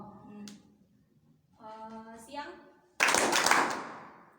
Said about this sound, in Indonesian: Misalnya Kak bilang pagi tepuk 1, bisa Kak bilang siang tepuk 2 kali, kalau malam tepuk 3 kali